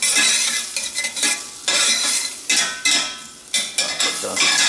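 Onion sautés in a pan, a close sizzle broken by repeated scraping stirs of a utensil against the pan in an uneven rhythm.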